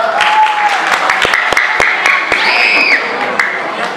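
An audience at a dance academy's annual cultural program claps steadily throughout, a dense spread of applause with a few sharper individual claps standing out, while a voice speaks over it on a microphone.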